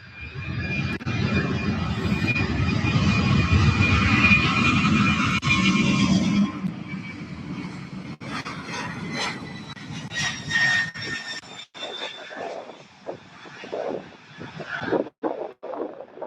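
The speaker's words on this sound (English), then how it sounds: "Amerijet 65790 taking off a runway 17 right." An Amerijet cargo jet taking off from runway 17 right at SDF airport, a loud broad engine roar for about six seconds that fades and thins into a distant rumble with scattered wind and handling noise.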